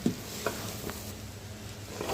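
Rice with mung and masur dal being stirred and fried in cooked-down spiced masala for khichuri, a soft steady sizzle with a few scraping stirs, close and without voices.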